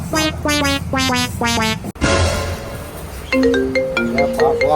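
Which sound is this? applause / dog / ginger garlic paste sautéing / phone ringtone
phone ringtone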